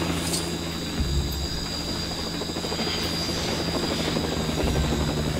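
Helicopter in the LEGO Jurassic World video game, a loud steady whirring rotor drone that continues without a break, with no talk over it.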